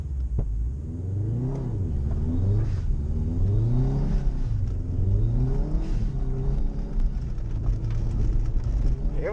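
A rallycross car drives through mud at night on a closing-round regional course, its engine revving up and down in steady rising and falling sweeps under a constant wash of splashing, rain-like noise.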